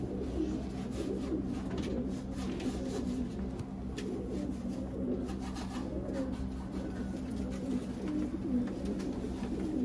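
Kasuri pigeons, a breeder pair, coo steadily in a low, continuous murmur with overlapping calls throughout, close and moderately loud, with no talking.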